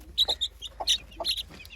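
A hen and a rooster cluck softly in a quick run of short, close calls, a few brief clucks bunched together with small pauses between them.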